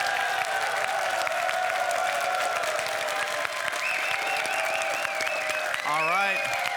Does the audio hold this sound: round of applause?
yes